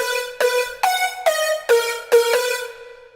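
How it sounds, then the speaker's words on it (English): A synth music lead plays six separate notes with normal reverb, each note struck cleanly and then trailing off in a short wash that overlaps the next, with the final tail fading to silence. "Normal reverb usually sounds like this."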